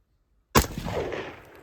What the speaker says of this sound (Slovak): Ďalšiu ranu mala by byť tichšia.